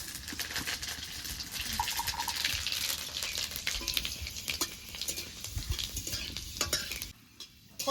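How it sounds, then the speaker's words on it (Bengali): Dried red chilies and panch phoron tempering in hot mustard oil, a crackling sizzle with scraping stirs and clinks of a utensil against the pan, close and continuous before a brief dip near the end. "এটা গরম হয়ে গেছে এবার ফোড়নে দিয়ে দেবো দুটো শুকনো লঙ্কা কটা পাঁচ ফোড়ন"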